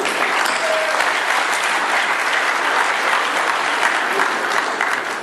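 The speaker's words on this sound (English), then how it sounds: "why should not we give an applause to this gentleman and the Vietnamese people" Dense, loud audience applause at an Asian Oceanian IT industry summit in Vietnam, a continuous roar of many clapping hands sustained at an even level throughout.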